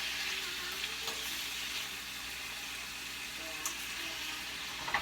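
Jamaican-style tin mackerel sautés in a pan, giving a continuous, even sizzle and crackle of frying at moderate volume with small bursts of spatter and no voices.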